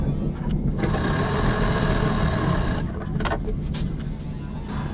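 Sewing machine running steadily as it stitches piping along one side of a fabric travel bag, a continuous close mechanical whir with a few short pauses and clicks.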